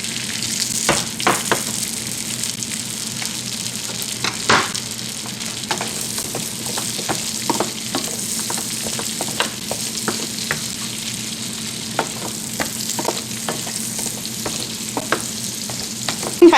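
Carrots fry in butter in a pan while being stirred, a close, constant sizzle broken by frequent sharp scrapes and clicks of the utensil against the pan.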